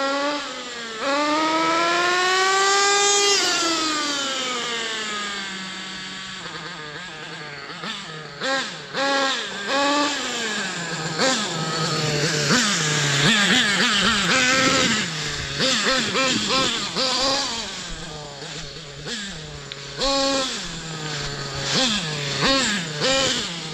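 A Thunder Tiger EK4 S2 nitro RC monster truck fitted with a custom Pro 70BX engine revs close by, its high, buzzing whine sweeping up and down in quick, continuous throttle bursts.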